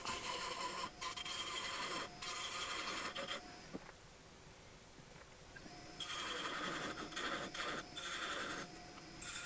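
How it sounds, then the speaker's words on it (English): A woodturning tool hollows out a wooden piece spinning on a lathe, giving a continuous scraping, rasping whir that pauses briefly midway and then resumes, close and moderately loud with no talk. "Just flipped it around and now I'm hollowing it out."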